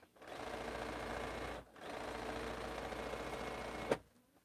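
A sewing machine stitching big quilt pieces runs in two steady bursts, close and fairly quiet, with a short pause between them and a sharp click at the end.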